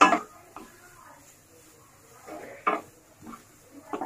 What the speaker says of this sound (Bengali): গাজরগুলোকে ভালো করে নেড়ে চেড়ে মিশিয়ে নিতে হবে তেলের মধ্যে।